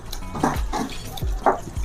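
A small amount of water poured into a pot of village-style desi chicken curry with potatoes, giving brief splashing and bubbling sounds close by, with no talking.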